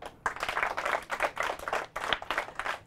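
Quiz-show audience applause rises as a small crowd claps in quick, uneven bursts, fairly close and moderately loud, sustained for a few seconds without any talk.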